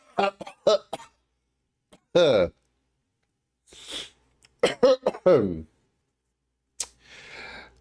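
Several short, harsh coughs, close to the microphone, come in quick bursts and again after a pause, with voiced outbursts between them.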